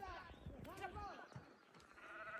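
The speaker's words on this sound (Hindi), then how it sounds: "बकरी देखो कितने स्मार्ट है" Goats bleat on a hillside farm with terraced fields, several wavering calls overlapping in the middle of the clip against steady outdoor background noise and a faint voice.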